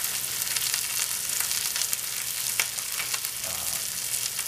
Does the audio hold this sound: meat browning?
yes